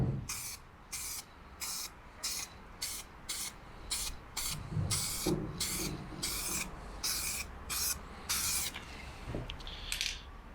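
Zinc primer aerosol sprayed onto a Citroen 2CV body in repeated short bursts, each a sharp hiss lasting about half a second, close and fairly loud with faint handling noise between passes.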